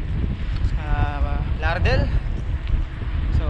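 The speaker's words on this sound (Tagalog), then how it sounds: "Lakas ng hangin, hirap pumadyak." Strong wind buffets the microphone of a cyclist riding home on a holiday bike ride, a loud low rumble that gusts throughout, while someone talks over it.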